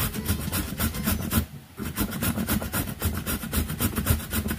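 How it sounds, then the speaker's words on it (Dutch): Papaya rubbed by hand against a grater in a kitchen, a quiet close rhythmic scraping of repeated strokes with a brief pause partway through. "En zo ga je door met raspen."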